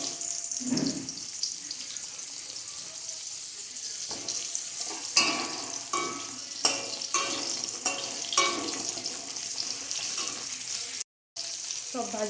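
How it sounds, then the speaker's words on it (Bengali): Carrot and papaya pieces frying in oil in a pan while cooking a Bengali wedding-style shukto, a low steady sizzle with occasional stirring clatters, fairly quiet and continuous, with a brief dropout near the end. "পেঁপেগুলো এবারে ভেজে নিচ্ছি"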